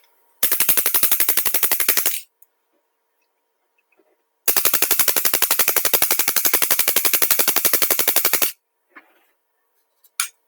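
Spyder Pilot paintball marker on full auto at 13 balls per second, two loud, rapid, evenly spaced bursts of shots, about two seconds and four seconds long, with a short gap between them.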